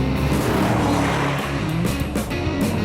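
A Chevrolet Camaro SS accelerating hard through a corner, its V8 engine droning loud and close with a steady throaty roar as the revs climb and dip, and a hint of tire noise.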